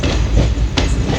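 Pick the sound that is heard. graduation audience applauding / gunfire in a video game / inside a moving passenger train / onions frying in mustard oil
inside a moving passenger train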